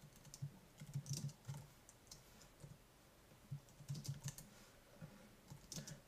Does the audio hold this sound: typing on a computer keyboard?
yes